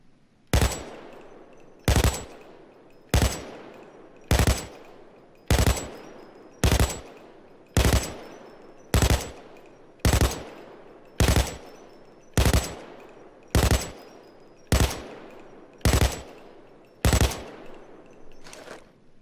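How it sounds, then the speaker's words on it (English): An RPK light machine gun fires in Payday 2 as a steady series of about fifteen single, evenly spaced loud shots. Each shot is punchy and has a short decaying tail. "Anyway, let's see how this RPK does."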